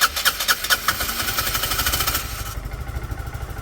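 A Peugeot Satelis scooter engine cranks with rapid pulsing bursts and then catches into a steady close idle, fairly loud and alone.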